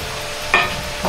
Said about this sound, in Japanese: 鍋を揺すりながら混ぜていきます。